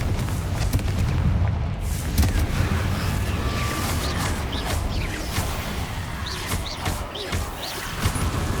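Bombarda and Confringo spell blasts in the Hogwarts Legacy video game, heavy booming explosions and crashing impacts filling the whole stretch with dense, loud battle noise and occasional voices mixed in.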